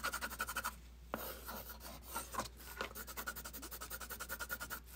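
An Inktense pencil scratches and rubs rapidly across paper in close, rhythmic back-and-forth strokes, pausing briefly between bursts of shading.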